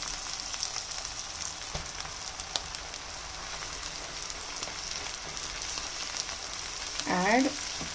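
Gongura leaves fry in sesame oil, a soft continuous sizzle and crackle in the pan that stays quiet and even, with a brief louder flare near the end.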